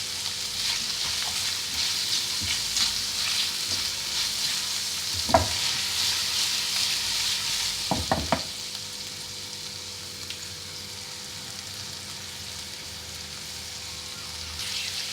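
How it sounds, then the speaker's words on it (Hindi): Capsicum and green chillies sauté in oil for chicken manchurian, a constant close sizzle broken by a few sharp spatula scrapes and clacks against the pan, with no talking. "सौते फ्राई कर लिया हमने"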